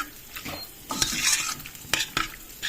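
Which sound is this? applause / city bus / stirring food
stirring food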